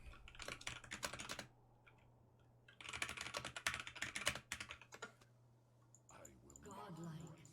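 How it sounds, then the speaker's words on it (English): Typing on a computer keyboard during a League of Legends match: bursts of rapid close key clicks separated by short pauses, with a steady low hum underneath and brief faint voice sounds near the end. "I'm just gonna type my analysis to him."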